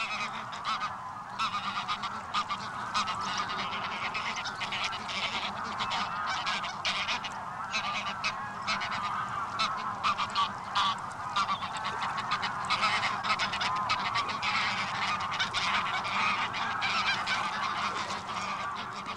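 A large flock of geese honks while feeding on plants in the shallow water of Lake Ichkeul, a dense, unbroken chorus of overlapping calls that holds steady and fairly loud throughout, with no talking.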